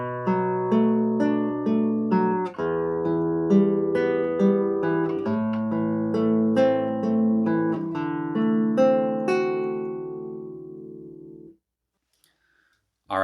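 Solo guitar playing the fingerpicked opening of a song: a steady flow of plucked melody notes over ringing bass, close and clear, ending in silence before a faint sound at the end.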